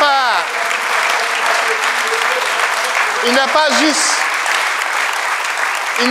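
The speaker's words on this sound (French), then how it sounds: "je vous demande de l'acclamer" Audience at a spiritual seminar applauding a guest teacher, a steady wash of clapping that holds loud and dense throughout, with a voice and faint cheers mixed in.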